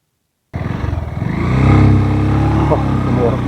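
A companion's motorcycle engine strains and labors on a steep, dangerous mountain road, running continuously at a loud, close, rough pitch after a silent start, with voices talking over it.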